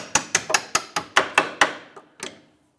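Hammer strikes tapping a rear upper control arm bolt out of a 2008-2013 Nissan Rogue, about nine sharp metallic taps in a steady rhythm with a brief pause before the last, close and fairly loud with no talk.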